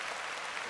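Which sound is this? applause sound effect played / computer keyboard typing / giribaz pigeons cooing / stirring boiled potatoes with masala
applause sound effect played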